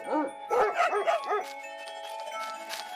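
An angry dog barks in the video game Bokura, a quick run of four or five sharp, close barks, then a quieter yip and fading whimpers under a faint electronic background tone.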